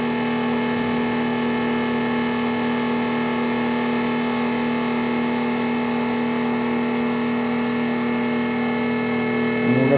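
A pump runs on a flow bench at around 2,500 RPM, giving a loud, steady mechanical drone with a constant tonal hum that holds unchanged throughout, alone without talk.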